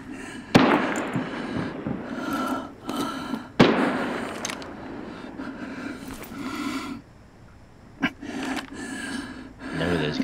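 Gunfire in the video game Arena Breakout: two sharp, loud shots stand out against a busy background of movement noise, followed by a softer burst later on.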